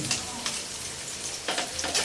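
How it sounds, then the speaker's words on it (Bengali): Chopped onion sizzles in hot mustard oil in a kadai wok, a steady loud crackle with a few sharper spits and stirring scrapes, heard close with no talk. "আমি কড়াই তেল গরম করে তার মধ্যে পেঁয়াজ সরিষার তেল দিছি"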